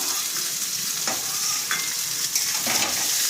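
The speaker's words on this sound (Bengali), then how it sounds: "এই পেঁয়াজ আর রসুনটা আমি এবারে ভেজে নেব ভালো করে।" Chopped onion and garlic fry in a pan with a steady, bright sizzle, broken by a few soft scrapes of stirring. Nothing else is heard.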